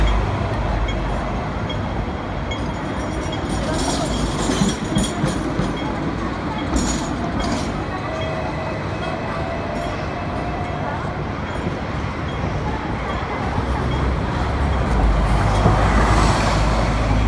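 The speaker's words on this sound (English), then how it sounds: "Double-decker buses and trams coming through." Trams and double-decker buses passing along a street in Central, Hong Kong, a steady loud rumble with rattling wheel noise and a swell near the end, with city bustle around.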